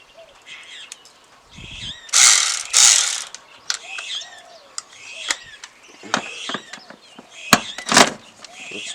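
Ratchet wrench working a 10mm bolt loose on a BT50 engine during a top-end strip down, with repeated quick clicking bursts close by, some louder rasping spells between them.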